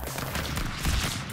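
Rapid gunfire from a gun in the video game Stick Fight, a close, loud burst of quick repeated shots blurring into a continuous crackling volley that lasts just over a second.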